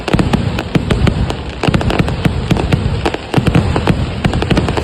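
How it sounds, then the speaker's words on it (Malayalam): Festival fireworks at a temple ulsavam burst in a dense, continuous barrage of loud bangs and crackles, the sharp reports overlapping one another with no pauses for the whole stretch. "അപ്പൊ നമ്മൾ വെടിക്കെട്ട് കാണാൻ പോയി."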